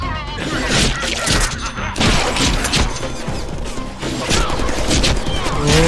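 Rapid gunfire rattles through a chaotic Deadpool video game fight, dense bursts and crashing impacts repeating across the whole stretch, loud and close, with game sounds layered over each other.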